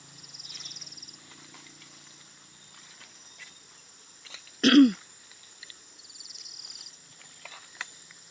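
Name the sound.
coughing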